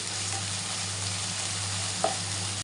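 Onions, green chili, ginger paste and ground coriander fry steadily in a pan, a continuous close sizzle with a low steady hum beneath and one brief utensil clink near the end.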